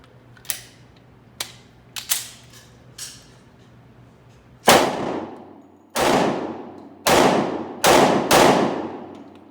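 A Springfield XDM Elite 10mm pistol fires at an outdoor range: a few lighter sharp cracks first, then five loud booming shots with ringing decays in a quick, uneven string.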